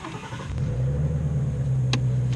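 Engine of a 2018 Ford Mustang Shelby GT350 catches and settles into a loud, deep, steady idle rumble close by, with a brief click partway through.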